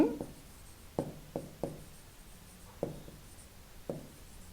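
A pen writing math on paper, heard as a handful of separate, close scratchy strokes with short gaps between them, quiet and without any talk.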